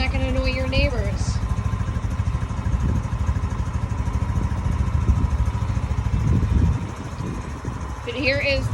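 A Rover 200cc gas fuel-injected lifted four-seater golf cart engine idles steadily and fairly quietly, with a person talking over it throughout.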